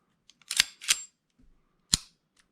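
A Para USA double stack 1911 pistol gives a few sharp metallic clicks and clacks as the trigger is pulled and the slide is worked, close and crisp with quiet gaps between.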